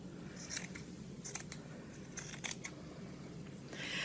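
Scissors cutting T-shirt fabric into yarn strips, several quiet, crisp snips in short clusters against a low background hush, close and faint with no talk.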